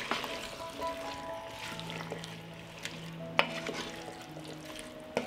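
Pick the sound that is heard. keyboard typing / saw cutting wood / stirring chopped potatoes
stirring chopped potatoes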